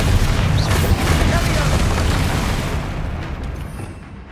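A Bombarda explosion spell in Hogwarts Legacy goes off as a loud, close, rumbling blast that decays slowly over several seconds, with a voice shouting over the start of it.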